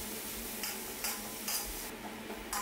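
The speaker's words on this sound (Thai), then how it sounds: "ผัดพริกกระเทียมให้เหลืองหอมก่อนครับผม" Chili and garlic stir-fry in hot oil in a pan for a Thai basil stir-fry. A close, steady sizzle is broken by a quick stirring scrape roughly every half second.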